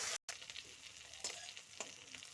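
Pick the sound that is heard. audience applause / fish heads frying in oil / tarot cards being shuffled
fish heads frying in oil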